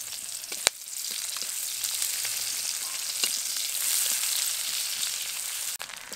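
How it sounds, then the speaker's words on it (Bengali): Chopped onions frying in hot oil already seasoned with cardamom, cloves, whole cumin and dried chillies, a steady close sizzle with a couple of sharp clinks of a utensil. "এবার দেবো পেঁয়াজ কুচি।"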